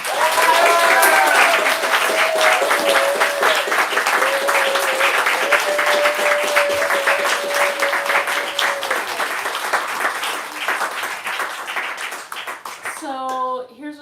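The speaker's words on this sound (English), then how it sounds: "only if you cheer for Natalka very loud." Audience at a book event breaking into loud sustained applause and cheering, a dense wash of clapping with whoops and voices lasting many seconds before fading.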